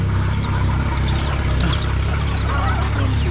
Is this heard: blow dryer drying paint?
no